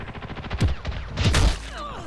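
Gunfire from a shotgun in the online shooter Ghost in the Shell: First Assault Online, a few heavy booming shots in quick succession over a busy background of game noise.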